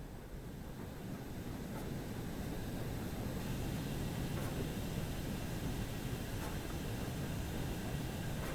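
An LMS Fowler Class 4F steam locomotive in the Train Sim World 6 game slows to a stop with a low, even rumble and hiss. The sound is quiet and continuous, with no voices.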